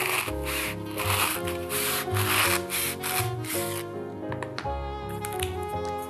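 A ceramic knife slices through a soft, easily cut craft material with raspy, scraping strokes in short bursts. Steady background music plays underneath.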